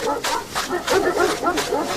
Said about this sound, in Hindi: कुछ कुत्तों ने उसे दौड़ाना शुरू कर दिया।